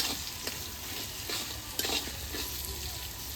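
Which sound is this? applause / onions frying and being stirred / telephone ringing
onions frying and being stirred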